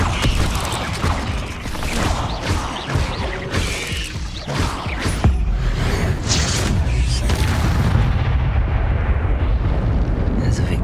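Spell-blast explosions in the video game Hogwarts Legacy, loud rumbling booms and mechanical crashes filling a dense, continuous battle mix, with a voice talking over parts of it.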